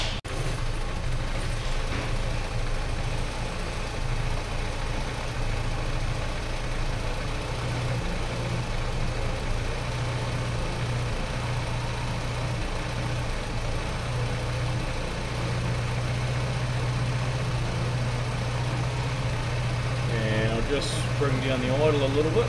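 A car engine idles steadily while its carburetor mixture is being adjusted, a constant low hum throughout with a slight rise in pitch near the end, and someone speaks over it.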